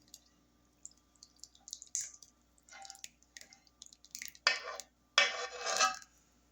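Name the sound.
pouring blackberry juice into the cobbler dish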